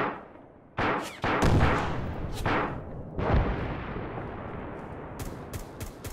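LAW rocket launcher fired at a church in Arma 3, a heavy booming blast followed by rolling explosions and rumble that echo and decay, with a few sharp distant cracks near the end, loud and close.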